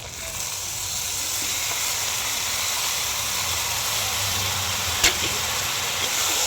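Taro greens stir-fry in a pan with a rohu fish head, making a steady, loud hiss and sizzle throughout, broken by one brief clatter.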